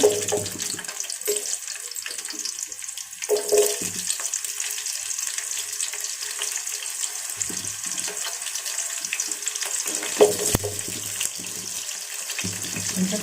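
Fenugreek seeds and onions frying in oil make a continuous crackling sizzle with scattered pops and a few clinks of stirring, fairly close and without talk.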